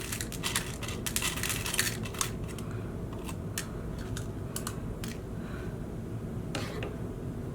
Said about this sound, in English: Scoop it up in the box.